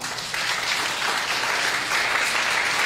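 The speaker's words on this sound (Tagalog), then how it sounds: "pumalakpak ng the best kay Lord" A church congregation claps during a Sunday sermon, steady and fairly loud applause filling the whole stretch without talk over it.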